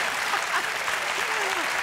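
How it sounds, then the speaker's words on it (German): A studio audience at a German satirical news comedy show claps in a short, even burst, moderately loud and dense, with faint voices mixed in. "ja, da dürfen Sie klatschen"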